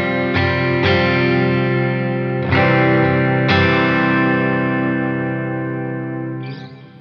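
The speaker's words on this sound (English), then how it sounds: "So this is a 70s chorus," Electric guitar through a Line 6 Helix strums a few sustained chords with a warbling, shimmering 70s chorus effect, each chord ringing out and slowly decaying.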